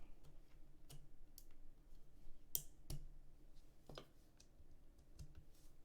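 Sharp, sparse clicks and thocks from a mechanical keyboard spacebar with stabilizers on a prototype build, pressed a handful of times at irregular intervals, close and fairly quiet, each stroke sounding slightly different.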